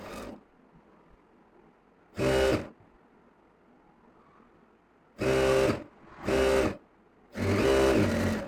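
A sewing machine stitches a trouser pocket to the back panel in four short, loud bursts of whirring, separated by quiet pauses, the last burst running longest.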